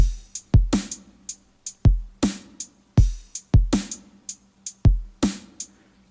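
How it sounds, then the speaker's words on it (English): A programmed drum beat from a Novation Circuit, with punchy kicks, snappy snare hits and crisp hi-hat ticks repeating in a steady loop. "The current drum beat sounds like this."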